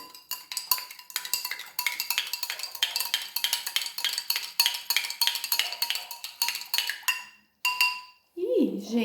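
Table salt being stirred into a liquid solvent in a glass container, giving steady rapid clinking and scraping of a utensil against glass, fairly close and continuous, with a brief pause near the end.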